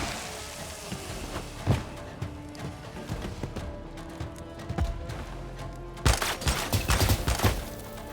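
Gunfire in Warhammer 40K: Dark Heresy, a video game, as troops shoot their own allies: a continuous run of crackling shots and thuds at moderate loudness, becoming denser and harder in the last couple of seconds.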